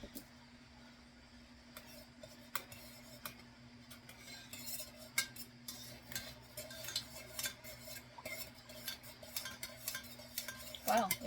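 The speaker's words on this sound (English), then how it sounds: "it actually goes down pretty quick when you stir it" Melting soy wax stirred in a pot for candle making, a run of repeated metallic scrapes and clinks of the utensil against the container, close and fairly quiet, with a steady faint hum behind.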